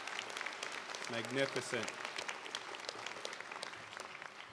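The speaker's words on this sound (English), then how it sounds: "How about another round of applause for Nazareth." Audience applause at a university fall commencement ceremony, a broad wash of clapping from a large crowd running the whole time, with a voice speaking briefly over it near the start.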